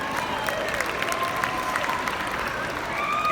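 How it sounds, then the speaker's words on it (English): Sustained applause from a convention audience in a large room, steady and fairly loud throughout, with faint voices and cheers mixed into the clapping. "I just want to take a moment and give you all an applause."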